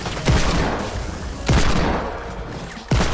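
Submachine gun fire in the Fortnite video game, loud bursts of shots in three clusters with brief gaps between them.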